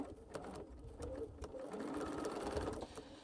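A sewing machine stitches a quilt corner unit in quick, steady chattering bursts, close and alone with no talk.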